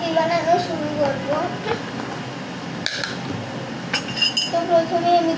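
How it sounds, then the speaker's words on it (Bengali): A glass and spoon clink while coffee is made: a few light, bright taps and rattles come through under a person talking and some background household noise. "তো গাইস, আমি এখন কফি বানানো শুরু করব।"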